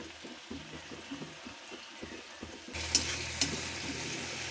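Rohu fingerling fish cooking in a thick tomato gravy: a quiet low bubbling rumble at first, then a sudden louder hissing sizzle with a couple of sharp spits near the end.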